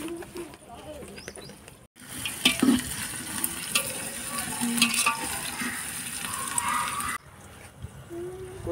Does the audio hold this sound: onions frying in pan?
yes